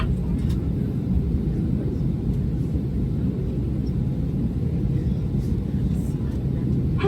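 Steady, loud low cabin roar inside an Airbus A320 jet on a Jetstar flight from Melbourne to Sydney, a constant drone throughout with no breaks.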